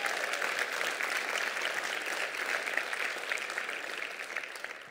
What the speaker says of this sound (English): You can clap for that, because let's go.